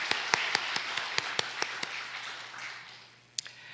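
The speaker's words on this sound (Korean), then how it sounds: "다시 한번 박수 보내드릴까요?" A church congregation claps faintly, with scattered individual claps ringing out over a soft background, then dies away to near quiet.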